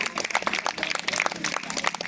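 Loud, dense applause from an audience at a Republic Day ceremony, steady clapping filling the whole stretch without pause.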